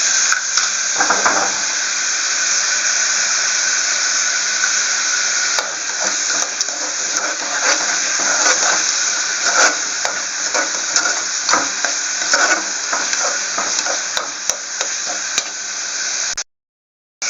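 Ginger and tomatoes frying in a pan for tomato rasam, a constant close crackling sizzle with scraping stirs throughout, cutting off abruptly at the end.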